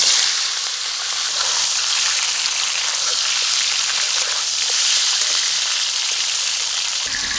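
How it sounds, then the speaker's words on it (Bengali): Turmeric-coated chicken fries in mustard oil in a kadai with a loud, dense, continuous sizzle like heavy rain, close by and without speech, thinning slightly near the end. "কড়াতে দেবো সর্ষের তেল, এদিকে আমি রান্না করছি"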